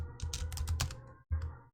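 Keys clatter in quick bursts as a command is typed on a computer keyboard, close and moderately loud, with a short pause before a final few strokes.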